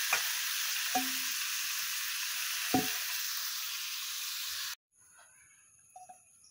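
Meat frying in oil with chili and turmeric powder, a loud steady sizzle with a few stirring clacks, then the sizzle cuts out abruptly and faint clinks follow.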